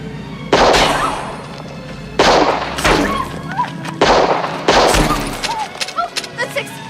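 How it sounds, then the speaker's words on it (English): Movie gunfire in a 1994 film, several loud sharp gunshot bursts in separate volleys with echoing tails and scattered crackles between, the shots coming close and prominent. "the person shooting in the movie starts shooting at Dennis Hopper and Penelope Ann Miller, and they're like dodging the bullets"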